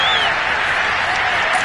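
A Madden 22 stadium crowd roars for a Jaguars touchdown, a dense, loud, sustained cheer with a faint whistle sliding across it.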